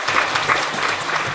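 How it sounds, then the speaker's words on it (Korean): Audience applause at a New Year's gathering of a civic group, a dense steady clapping that fills the short moment at close range with no voices on top. "큰 박수 부탁드립니다"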